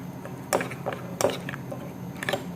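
A spoon stirs oat powder into coconut oil in a bowl. A few light clinks and scrapes of the utensil against the bowl sound close up, spaced out over quiet room tone.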